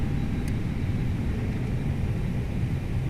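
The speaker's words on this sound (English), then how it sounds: "That wind buffering, pretty good on the wind buffering sound there." Airbus A321neo in a flight simulator game with the spoilers deployed as speed brakes, heard from the cockpit as a steady low rumbling wind buffet, loud and unbroken.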